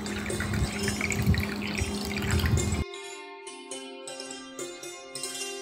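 Water pours into a drink mixture, a steady close splashing stream for the first half that gives way to lighter trickling and dripping with ringing tones, no voices present.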